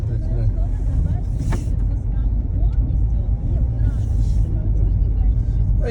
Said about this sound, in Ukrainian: Дивіться, так автомобіль їде.